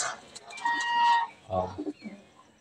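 Racing pigeons in a loft give a few soft, close calls and coos, short and intermittent against a quiet background.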